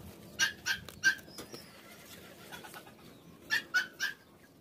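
Two short bursts of three clucking calls each from chickens nearby, separated by a quieter stretch with faint background noise.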